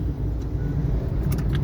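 A car's engine hums in a low, steady drone as the clutch is released during a driving lesson, the engine note slowing slightly with no talk over it.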